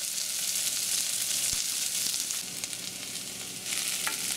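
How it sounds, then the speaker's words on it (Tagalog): Thinly sliced onions sauté in oil in a pan for adobong sitaw, giving a steady, close hiss of frying with a few soft clicks from stirring throughout. "Tutuloy lang natin ang pag-isa hanggang sa tuluyan ng lumambot ng sibuyas"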